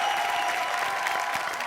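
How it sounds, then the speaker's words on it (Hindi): Audience applause for Ravi Kishan on an Indian TV entertainment show stage, a steady dense clapping wash from a crowd that carries evenly through the whole moment without any speech. "जबरदस्त तालियां रवि भैया के लिए"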